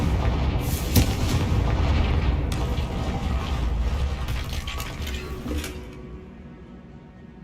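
Confringo blasting spell explosions in the game Hogwarts Legacy, a sustained loud rumbling barrage with repeated booming bursts and crackling impacts that gradually fade toward the end.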